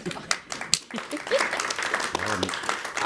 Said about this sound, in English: I wouldn't have been applauding that one